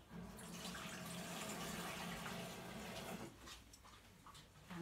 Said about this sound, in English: Right, so we put some water on here.